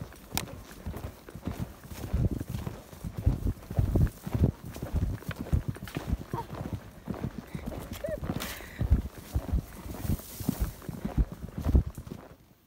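Horse hooves on a trail during training, a close, steady rhythm of dull thuds at a canter-like pace with some creaking tack, under light outdoor ambience.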